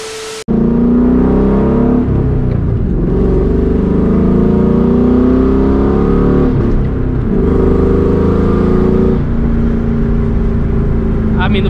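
A 2004 Ford Mustang GT V8 fitted with a Borla ATAK exhaust revs loud and close, its deep exhaust note rising and falling through several blips over a continuous rumble, with no talking.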